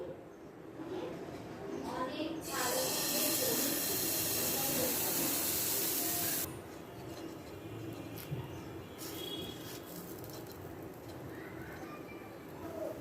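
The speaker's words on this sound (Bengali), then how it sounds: "এখন ব্যাটার দিয়ে দিব" Whisked egg batter poured into a hot, oil-brushed pan, bursting into a loud hissing sizzle that holds for several seconds and then drops to a softer fry, with a voice talking over it.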